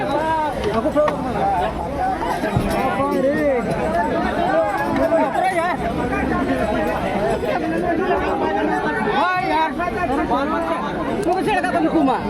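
Dense crowd packed into a busy railway junction during a pilgrimage, a loud continuous babble of many voices close around, with nearby speech over the hubbub.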